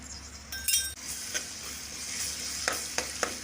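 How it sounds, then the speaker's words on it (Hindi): Ginger garlic paste frying in hot oil with whole cloves and bay leaf, a steady close sizzle with a spoon stirring and clinking against the pan several times. "अब इन खड़े मसालों के साथ अदरक और लहसुन को अच्छी तरह से भून लेंगे"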